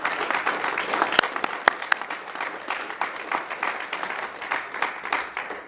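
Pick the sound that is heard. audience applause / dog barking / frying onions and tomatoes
audience applause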